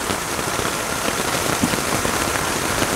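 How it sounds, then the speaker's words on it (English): Heavy autumn rain pours down in a dense, continuous roar, drumming hard on a tipi hot tent close by at a riverside camp. "This is the hardest rain we've had."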